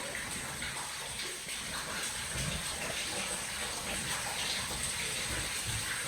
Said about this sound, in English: This water's falling from the ceiling